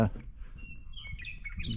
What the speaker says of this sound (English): bird sanctuary sounds over here